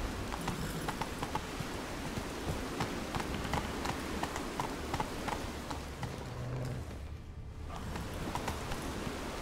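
Video game horse galloping in The Witcher 3, a steady rapid clip-clop of hooves running close and continuous, with a brief dip in intensity near the end.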